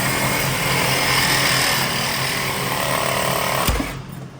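A Sawzall reciprocating saw cuts through metal in the engine bay of a 1996 Buick Century with a 3100 engine, a loud, steady buzzing grind for several seconds that stops abruptly near the end.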